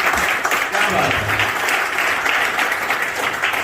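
A seated crowd at a motivational talk claps steadily and loudly throughout, a dense, even wash of applause with no break.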